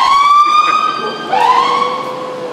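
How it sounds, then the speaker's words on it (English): A loud emergency siren wails with two rising-and-falling sweeps in quick succession, close and alone, with no talking over it. "that's appropriate to have a siren right there"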